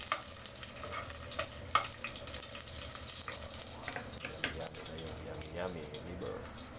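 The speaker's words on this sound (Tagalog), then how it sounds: "mainit yung fry pan. Lagyan natin yung bawang" Garlic frying in a hot frying pan in a small home kitchen, a steady close sizzle with faint crackles running throughout, with a little soft background activity.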